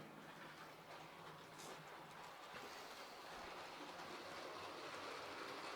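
A model railway locomotive runs along layout track with a faint, steady mechanical whir and light rhythmic rail clatter, heard on its own at low level.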